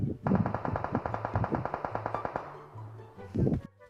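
Automatic gunfire in the PUBG Mobile battle royale game rattles off as a long, rapid burst of evenly spaced shots, with voices talking over the game.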